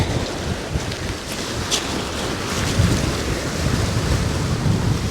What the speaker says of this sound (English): I think the waves are a little bit strong